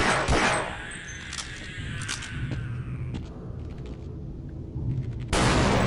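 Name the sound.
explosions in the video game Half-Life: Blue Shift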